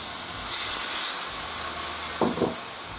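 A loud, steady hiss and sizzle fills the air as a bowl of water is poured into a hot pan while stir-frying chayote with egg and pork, with a couple of brief clanks near the end.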